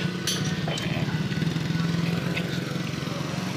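A motorized tricycle's small engine runs with a steady, rapid buzzing putter, close and continuous, with a fluttering low rumble and brief clatters over it.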